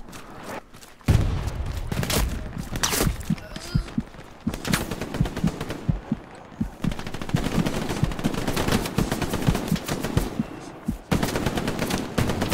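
Gunfire in a tactical shooter video game: dense, loud bursts of automatic rifle and machine-gun fire crackle almost continuously, with sharp close shots and heavier thuds layered over faint background talk.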